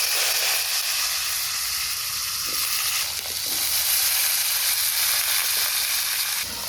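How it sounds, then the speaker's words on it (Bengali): Drumstick pieces and potatoes fry in hot mustard oil with black cumin, giving a steady, loud, close sizzle throughout with a few faint utensil knocks and no talk. "এখন এই তেলের উপরে সজনে আলু একটু ভাজা ভাজা করে তারপরে সর্ষে বাটা দিই"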